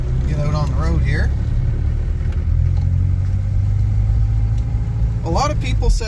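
A 1968 Mercedes W108 sedan drives along a road with a steady, moderately loud engine and road rumble throughout. A person talks briefly at the start and again near the end.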